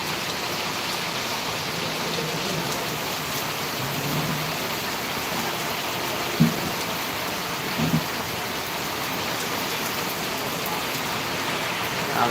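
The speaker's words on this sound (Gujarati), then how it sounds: "વરસાદ બરાબરનો ચાલી રહ્યો છે" Dense, steady downpour of heavy rain hissing on surfaces, with two brief faint thuds partway through and no talking.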